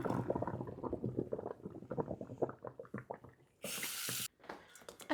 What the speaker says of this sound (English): We're going to drain our pasta, and then we're going to rinse it off to kind of cool it down